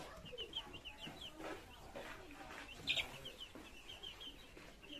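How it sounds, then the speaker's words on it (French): Hens clucking softly and repeatedly close by in New Zealand, with faint chirps of chicks and a quiet voice in the background. "Ah, ça c'est des poules."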